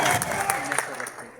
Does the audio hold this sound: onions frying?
no